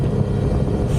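A Triumph motorcycle engine held on the throttle, a loud, steady low roar lasting about a second with no pause.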